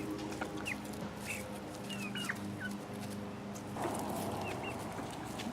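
Chickens cluck and chirp softly nearby as they eat leftover rice, with scattered pecking and rustling sounds as the flock moves about.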